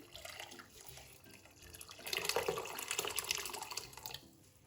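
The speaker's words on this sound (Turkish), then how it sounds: "Üzerine en az 3-4 parmak geçecek kadar sıcak su ilave ediyorum daha çabuk olması için." Hot water poured into a pot of diced carrots being parboiled for kumpir gives a steady, close splashing pour that swells louder midway and then tapers off, with no voices.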